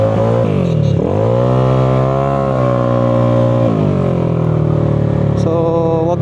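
A Yamaha Aerox scooter with a 232cc engine runs hot at idle and revs up and down, a loud, close, continuous motor drone throughout with no speech.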